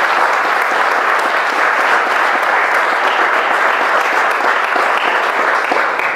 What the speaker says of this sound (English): if we could have a round of applause for them